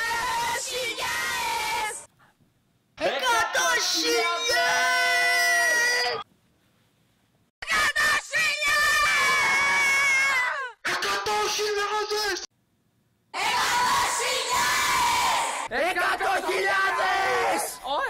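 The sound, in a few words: fans shouting and screaming to celebrate 100,000 subscribers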